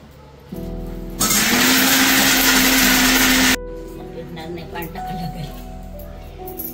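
Mixer grinder blending tamarind into a fine masala paste, a loud steady whirring roar lasting a few seconds that starts and stops abruptly, with speech in a Marathi village kitchen before and after.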